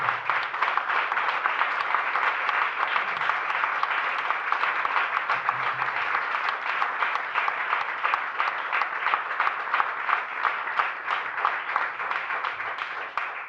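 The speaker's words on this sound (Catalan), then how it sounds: "demanaria un fortíssim aplaudiment perquè és una cosa extraordinària" A large audience at the Nit de l'Edició i la Lectura 2024 awards ceremony gives steady, dense applause with many hands clapping at an even level throughout.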